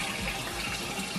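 Tap water runs steadily for face washing, a close, continuous broadband hiss with no break and no talk.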